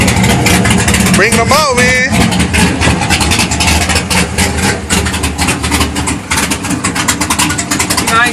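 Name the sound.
cammed LS2 2002 Camaro SS engine idling with full exhaust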